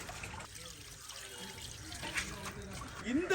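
Water splashes and trickles as rice is washed by hand for a village-style fish biryani, a close, uneven swishing flow with soft murmuring in the background.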